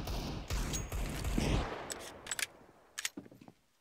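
Desert Eagle pistols fired in CS:GO during a competitive match on the Cache map, a dense rapid volley of shots fading into scattered, fainter single cracks.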